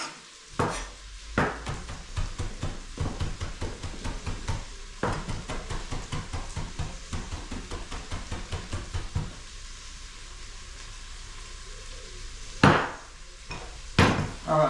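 A knife taps repeatedly against a cutting board while dicing chilli and garlic for a lentil stew, a brisk, close run of sharp chops with short pauses and a few louder knocks near the end.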